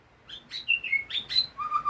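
A white-rumped shama sings a quick series of bright, varied whistles and chirps, fairly close and clear against a quiet background.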